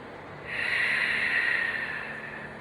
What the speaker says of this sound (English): deep breath in, and breathe out. One more time, deep breath in.